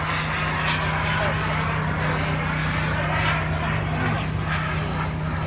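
A radio-controlled F9F Panther scale jet with a JetCat Titan turbine roars steadily overhead, a broad rushing noise with a constant low whine beneath it, loud and sustained at a moderate distance.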